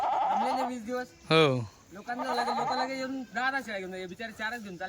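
A Kathiawadi goat bleats several times up close, loud wavering cries separated by short pauses.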